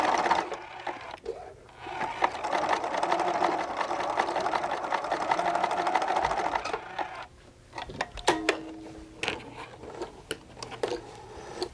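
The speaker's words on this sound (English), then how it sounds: "we're going to zigzag and back stitch" A sewing machine runs a zigzag and back stitch through fabric, whirring steadily for several seconds before it slows into a few short rattling bursts and clicks, close and alone.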